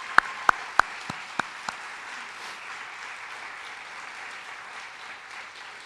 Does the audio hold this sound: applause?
yes